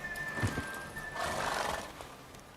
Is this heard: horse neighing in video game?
yes